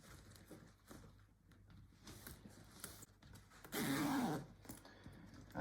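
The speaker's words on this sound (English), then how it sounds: "we can zip this little zipper in the center" A small zipper is drawn along the center of the fabric on an Uppababy Vista V3 stroller, a brief bright rasping burst at close range amid faint handling rustles.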